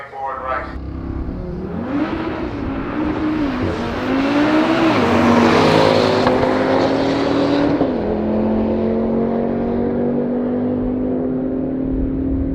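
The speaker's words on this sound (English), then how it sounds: "There goes the RS3, the Barra Killer." An Audi RS3 launching and accelerating hard down a drag strip at a Euro drag day, its engine note climbing steadily and loudly through the gears for several seconds, heard from trackside among crowd noise.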